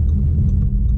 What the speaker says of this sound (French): bas régime, on entend vraiment bien la sonorité du 5 cylindres